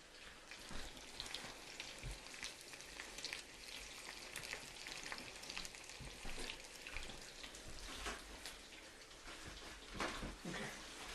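Breaded chicken parm cutlets fry in a pan with a dense, steady crackling sizzle and irregular bright pops throughout, close and even in level.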